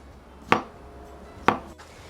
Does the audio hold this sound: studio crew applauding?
no